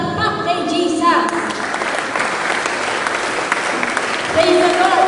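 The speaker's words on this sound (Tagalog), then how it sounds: "ulitin po natin ang palakpak kay Jesus" A church congregation at an evangelistic praise and worship fiesta bursts into loud, sustained applause, filling the space after a speaker's voice and continuing as talk resumes faintly near the end.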